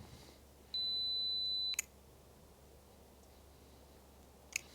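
A Fujifilm X100V camera's two-second self-timer gives one steady, high, faint beep lasting about a second, then a sharp shutter click, and a second click follows a few seconds later in a quiet room.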